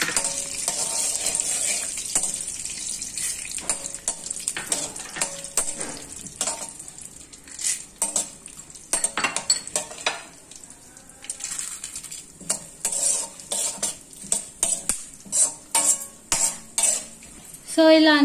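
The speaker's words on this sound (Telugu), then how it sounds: "50 గ్రామ్స్ నెయ్యి వేసుకొని ఇప్పుడు అన్ని జీడిపప్పు అలా సీడ్స్ అన్ని దాంట్లో వేసి వేయించుకోవాలి" Cashews and seeds frying in 50 grams of ghee for pumpkin halwa, a steady close sizzle with scattered clinks and scrapes of a utensil stirring in the pan, no talk.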